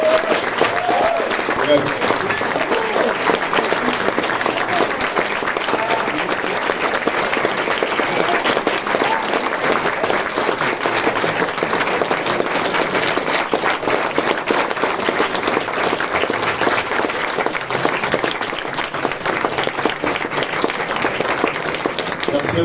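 An audience at a cinema club applauds to welcome director Alfonso Cuarón, arriving to present his film Children of Men; dense, steady clapping fills the room for the whole stretch, with voices mixed into the crowd noise.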